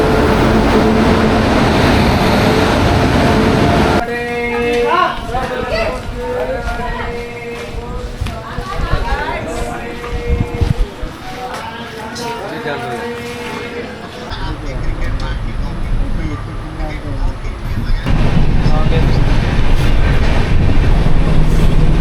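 A train at a station in Andhra Pradesh, its rumble and rail noise sustained throughout, loud and near, with a busy stretch of clatter and other station sounds in the middle.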